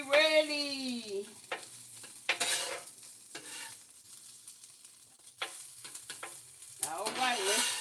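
Rice being stirred and fried on a flat top grill, scraping and sizzling in bursts with a steady hiss underneath, close and fairly loud, with a person talking briefly at the start and again near the end.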